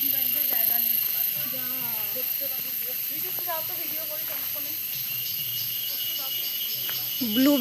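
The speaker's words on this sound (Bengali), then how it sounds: "এই ঝিঝি ঝিঝি ডাকছে।" Crickets chirp outdoors in Arunachal Pradesh, near Dirang, as a steady high-pitched buzz that runs through the whole stretch, with a second insect tone joining about halfway. A person talks over it.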